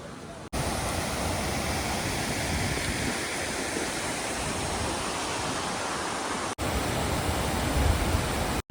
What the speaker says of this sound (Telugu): పెద్ద వాటర్ ఫాల్ ఉంటే